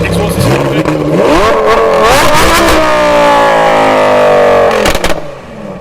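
Lamborghini Huracan with a custom straight pipe exhaust revving hard at a launch event, loud rising blips climbing then holding a high snarl before dropping off abruptly, close up with voices around.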